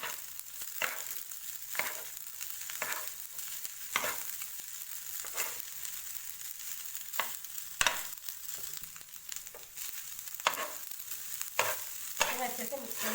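Mumbai street-style tawa pulao is stirred and fried on a griddle, with repeated scraping strokes of a spatula at an irregular rhythm over a constant close sizzle.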